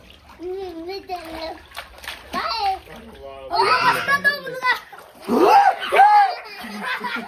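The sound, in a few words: people splashing in pool water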